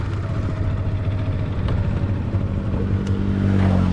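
A motorbike engine idles nearby at the roadside, a steady low throbbing hum with even pulsing that holds constant for several seconds and swells slightly at the end, with no voices.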